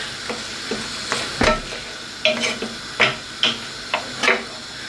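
Tinned tomatoes being stirred into frying beef mince in a pan, a run of sharp spoon scrapes and knocks in an irregular rhythm over a low background sizzle, close and fairly loud, no talking.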